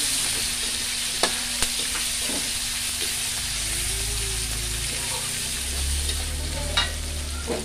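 Steady sizzling and hissing of beef frying in a hot pan with spice paste for rawon, with a few clinks and stirring scrapes.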